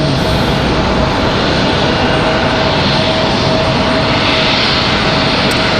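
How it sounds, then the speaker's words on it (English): An American Airlines Boeing 777 airliner preparing to line up on the runway at Raleigh-Durham International, its engines a loud, steady jet roar that holds without a break and stands alone. "As the American 777 gets ready to line up here."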